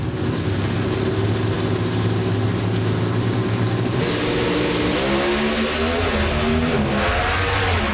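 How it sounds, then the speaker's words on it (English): Pro Stock drag race cars at the 2014 Mile High Nationals launch and race side by side, a loud, continuous, close engine roar that swells and shifts pitch as they accelerate down the track. "Almost identical off the starting line. Neither one wanted to leave early. Oh, what another great drag race."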